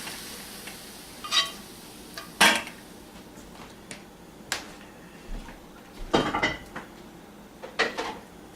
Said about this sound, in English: Alright, time to drain the meat.